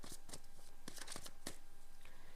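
Tarot cards being shuffled in quick riffling bursts, several crisp flurries spaced across a short stretch, close and fairly quiet with no voice.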